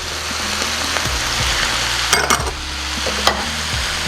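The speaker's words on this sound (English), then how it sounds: "I'm gonna go ahead and add all of my Worcestershire sauce." Cabbage and sausage fry in a pan as Worcestershire sauce goes in, giving a steady loud sizzle with stirring clatter and a few sharp utensil knocks.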